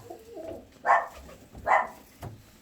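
Pigeons coo in a breeder's coop, with two clear, close, low cooing calls and a fainter third one against quiet background noise.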